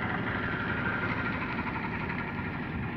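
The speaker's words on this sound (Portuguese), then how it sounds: "Tá chegando aqui mais outro carro, vai entrar na balsa ali." A car engine rumbles steadily at low volume as the vehicle pulls up to board a river ferry on the São Francisco River, a continuous idling drone with no talk over it.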